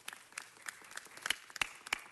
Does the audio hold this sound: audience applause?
yes